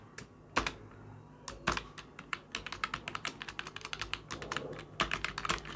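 Python code typed on a computer keyboard in quick, close keystrokes that speed into a dense, uneven clatter, with no talk over it.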